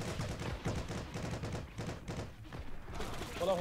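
Sniper gunfire in a video game arrives as dense, continuous bursts of shots and rumbling effects that fill the whole stretch.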